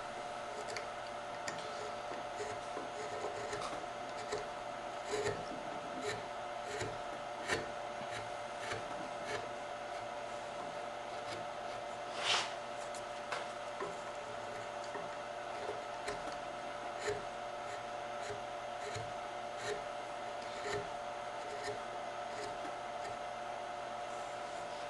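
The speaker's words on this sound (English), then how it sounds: "You could use a bench chisel, or a big number 2 works oftentimes as well. I actually like using a number 2. I'm using a bench chisel here," Bench chisel carving wood by hand, a quiet series of short scraping and tapping strokes spread irregularly over a steady background hum, with one sharper cut near the middle and no talk.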